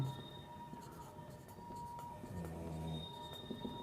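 Pen or marker scratching out a label on a civil-engineering building drawing of a plan, cross section and elevation, a quiet, steady scribbling with soft strokes under a faint background hum, no talk.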